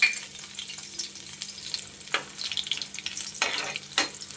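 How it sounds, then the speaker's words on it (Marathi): Garlic fries in hot oil in a kadhai for a Konkani green bean dish, with a low, steady sizzle broken by a few sharp crackling bursts, close and moderately quiet. "तेल छान गरम झालं आहे त्याच्यामध्ये खेचलेलं लसूण घालायचं आहे"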